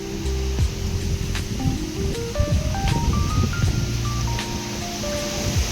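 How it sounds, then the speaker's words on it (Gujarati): A full windstorm with rain falling drives a steady, loud roar of wind and rain noise throughout, with a faint rising and stepping tonal melody drifting over it. "ફૂલ વાવાઝોડું વરસાદ બી ચાલુ થઈ ગયો"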